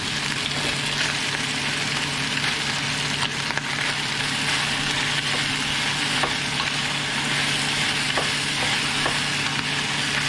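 Pork and jalapeno pepper stir-fry in a pan with a continuous loud sizzle, punctuated now and then by light scraping strokes of the stirring utensil, with no one speaking.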